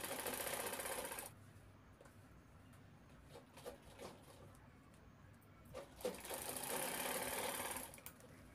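A sewing machine stitches a fabric handbag in quick, rapid runs, whirring loudly at the start and end with quieter, uneven clicking and handling noises in between, close by.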